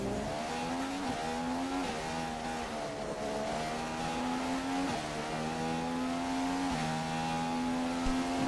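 McLaren Honda Formula 1 car engine in the racing game F1 2015, a continuous high-pitched engine whine rising through the revs with quick gear shifts, loud and steady.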